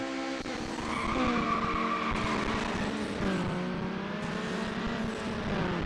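Race car in Need for Speed Underground skidding, with sustained tire squeal over a revving engine, loud and continuous with shifting pitch, no talk.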